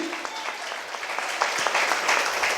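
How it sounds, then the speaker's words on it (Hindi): Church congregation clapping loudly in unison during a Hindi-language service, a brisk burst of many hands that swells and continues for a couple of seconds. "ताली बजाओ जोर से एक बार।"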